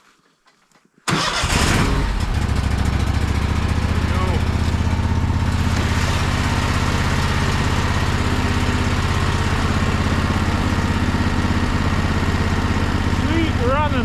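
A Wood-Mizer LT15 sawmill engine in cold winter weather cranks and catches almost at once, then settles into a loud, steady close-up idle that runs without a break.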